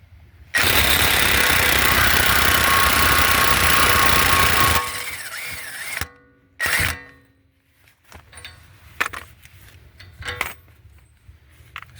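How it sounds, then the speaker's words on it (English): A battery-powered impact wrench with a 32 mm socket breaks loose the steering knuckle nut on a 2017 Ford Escape 1.5L, a loud sustained rattling hammer for about four seconds, then a shorter burst and scattered clanks of the tool and parts. "I'm going to use my impact and 32 millimeter socket to get this out."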